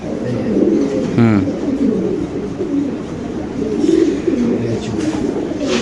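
Fancy pigeons coo in low, repeated throaty rolls that layer over one another. Clear and close, they sound over a steady background din.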